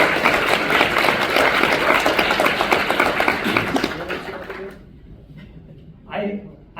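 Audience at a festival screening Q&A applauds a cinematographer: a dense, steady wash of clapping that fades out after about four seconds, leaving near silence, then a brief burst of noise near the end.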